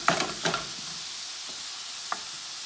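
Homemade pasta sauce cooking in a pan gives a soft continuous sizzle, broken by a few sharp stirring scrapes and clicks near the start and once more later.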